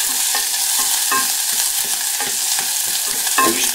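Beefburgers fry in a hot pan, giving off a steady close sizzle with soft scraping and stirring taps recurring every half second or so; no one speaks.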